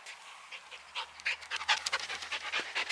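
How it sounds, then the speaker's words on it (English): Two dogs pant rapidly and unevenly at close range after running alongside a Honda Rubicon Foreman 550 ATV on a trail ride, the quick breaths overlapping in short bursts with no talking. "the dogs both made it back and they're over there playing again"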